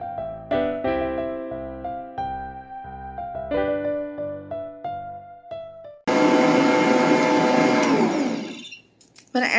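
Tonal music with a melody plays first, then an electric mixer beating eggs into German chocolate cake batter cuts in with a loud, steady whir for about three seconds before stopping abruptly.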